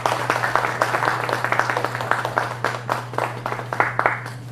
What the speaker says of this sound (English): I request you all to please join me in welcoming with a round of applause Mr.